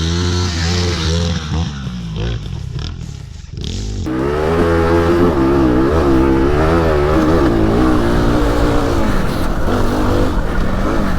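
A Fantic Motor Enduro 250 (2019) enduro motorcycle being ridden, its engine revving loudly and continuously through gear changes and throttle blips, close up, with a brief dip in power before building again.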